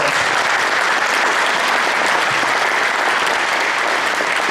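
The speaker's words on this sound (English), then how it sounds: "Let's give them all a round of applause." A touchdown club meeting crowd gives its coaches a round of applause, an even, unbroken wash of clapping that holds loud and steady throughout.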